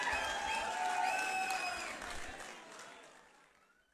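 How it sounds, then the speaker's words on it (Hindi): Audience applause for the Urdu poet Ali Zaryoun at a poetry gathering, a dense roar of clapping from a crowd that holds steady and then slowly fades away. "तालियां रुकनी नहीं चाहिए, पता लगे आपको कितनी मोहब्बत है"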